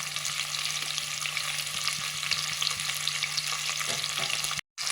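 Large onions sauté in a pan with a dense, steady sizzle close by, running on without pause before cutting out abruptly just before the end; nobody speaks.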